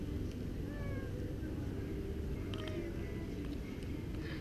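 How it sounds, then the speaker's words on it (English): A few faint cat meows sound from a distance over steady outdoor background noise in Malacca, Malaysia. "There's kitties everywhere."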